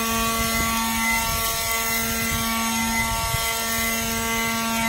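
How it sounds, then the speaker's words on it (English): A Ryobi One+ 18-volt electric leaf blower runs continuously as it blows leaves outdoors, giving a steady, close, high motor whine with a constant airy rush throughout. "this blower's really doing the job"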